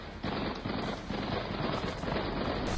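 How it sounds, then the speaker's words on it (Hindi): Two-way gunfire during a terrorist attack at a church in Dagestan, a dense continuous rattle of rapid shots, fairly distant and rough in quality, lasting the whole stretch. "दो तरफा अंधाधुंध फायरिंग।"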